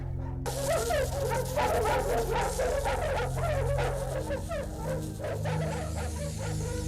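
Many dogs in kennel pens bark, yip and whimper continuously and close by, a busy overlapping chorus of excited and distressed calls.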